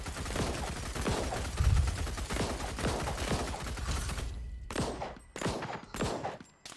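Rapid automatic gunfire in a PUBG-style mobile battle royale shooter game, dense sustained bursts for several seconds, then a pause and a few separate louder shots near the end.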